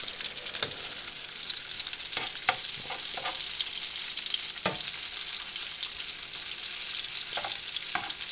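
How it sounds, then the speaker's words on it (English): Small pieces of meat fry with bacon in a pan for chili, giving a steady close sizzle with scattered sharp pops and crackles and no talking. "I'm putting it in small pieces all along the frying pan."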